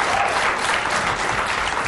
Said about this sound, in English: Did you hear them clapping?